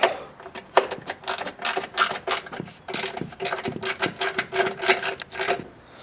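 A ratchet wrench clicks rapidly in repeated bursts, close and clear, while loosening a bolt on the fender of a 2005-2011 Mercedes SLK.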